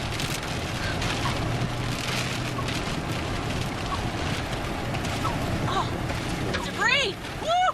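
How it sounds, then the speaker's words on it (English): Heavy rain pounds a vehicle during a storm chase in Illinois, a dense steady roar of drops on the car, with voices and a few rising whistle-like tones near the end. "The rain's coming."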